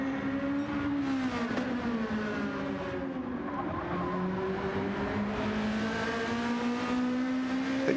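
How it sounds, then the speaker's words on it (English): Race car engines in a Gran Turismo tuner race drone loudly and continuously, with revs rising and falling through gear changes and another car briefly audible nearby, with no talking. "Gran Turismo Polyphony, rather, did a very good job of sounds with some of these cars"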